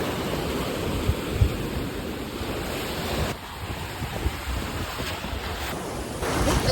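Ocean surf washes steadily on a beach while strong wind roars across the microphone in a constant loud rush, with no voices.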